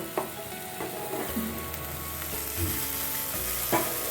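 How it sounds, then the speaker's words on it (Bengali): Rice flour is dry-roasted and stirred in a pan, giving a soft, continuous frying hiss broken by occasional scraping taps from the spoon, close up with no talking. "চাল গুঁড়োটা একদম ভাজা ভাজা করে নেব আমি শুকনো করে নেব"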